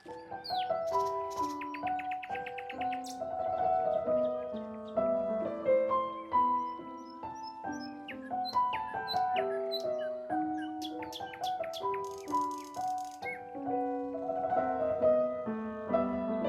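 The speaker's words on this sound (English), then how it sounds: "the birds are chirping" Birds chirp and sing in a sunny English spring garden at Anglesey Abbey, several clear, bright calls overlapping in repeated phrases throughout, fairly close and with no talk.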